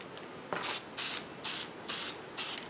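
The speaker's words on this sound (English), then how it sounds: "spray paint them" An aerosol can of yellow spray paint is sprayed onto small cut pieces of nail in five short, evenly spaced hissing bursts, close and crisp, with brief silences between them.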